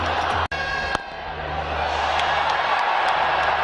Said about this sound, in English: The crowd will cheer.